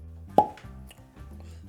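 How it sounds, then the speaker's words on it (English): A cork pops out of a Weller Full Proof wheated bourbon whiskey bottle with a single sharp, hollow plop, close by, followed by faint handling sounds in a quiet room. "Fantastic cork pop, always a good sign."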